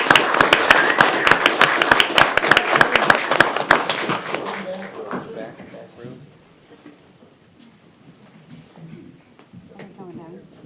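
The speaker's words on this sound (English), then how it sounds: "Let's give them a big round of applause." A crowd at a city council meeting in Oldsmar bursts into loud, dense applause for several seconds, then the clapping thins out and fades into quiet room murmur.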